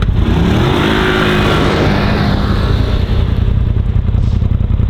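A quad bike engine revs hard as it takes off racing, a loud, close, rough roar with rising pitch that then settles into a sustained drone as it pulls away.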